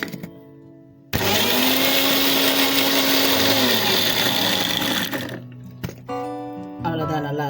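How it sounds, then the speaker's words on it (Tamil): A kitchen mixer grinds egg masala paste with a loud, sustained whirring roar for several seconds before shutting off, leaving clinks and short quieter sounds afterward. "அவ்வளோதான், நல்லா அரைஞ்சிருச்சு."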